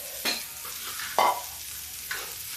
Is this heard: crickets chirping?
no